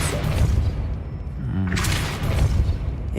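Depulso spell cast in the video game Hogwarts Legacy, a loud booming magical blast with a thudding impact and whoosh, layered over steady game music and ambience.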